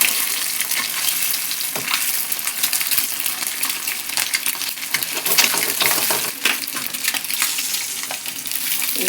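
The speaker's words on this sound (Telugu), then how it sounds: "అట్లా గోల్డెన్ బ్రౌన్ కలర్ వచ్చేంత వరకు ఫ్రై చేసుకోవాలి." Eggs and drumsticks frying and being stirred in a pan for an egg drumstick curry, a loud, close, continuous sizzle with scraping stirs and clinks throughout, no voices.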